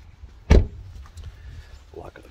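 A car locking by remote, a single short sharp clunk of the lock mechanism close by, followed by quiet outdoor background.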